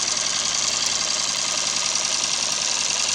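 A Triumph Bonneville motorcycle engine, hot, idles at a fairly quick tick over with a steady, even mechanical chatter. It is close and loud, and no one speaks over it.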